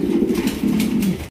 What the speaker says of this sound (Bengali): এখানে রয়েছে হোয়াইট কালারের মাল্টেস কবুতর, ইয়েলো, ব্ল্যাক